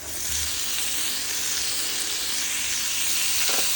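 Tomatoes and onion sautéing in a pan for masala vegetable Maggi, a steady close sizzling hiss with a brief stirring scrape near the end.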